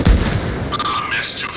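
A single loud, close gunshot in a video game bursts out at once and trails into a rumbling decay, with faint higher tones rising later.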